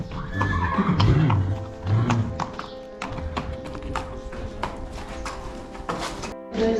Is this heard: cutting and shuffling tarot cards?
no